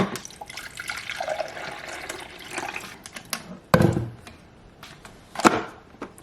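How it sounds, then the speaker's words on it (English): Water trickles and pours into a coffee maker in a home kitchen, a faint, steady flow broken by a few louder splashes and clunks. "here comes the water"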